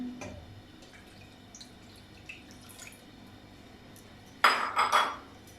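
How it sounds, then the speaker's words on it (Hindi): Milk poured into a pan on a stove, a faint clatter of the pan early on, then a short splashing, gurgling pour near the end that rises loudly and fades within about a second. "सबसे पहले एक पैन ले लिया, चूल्हा ऑन करते हैं। इसमें दूध डालेंगे"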